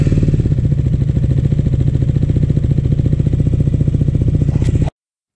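A KTM Duke 125 motorcycle engine, just fitted with a new spark plug, runs at a steady close idle with an even rapid pulse for about five seconds before cutting off abruptly.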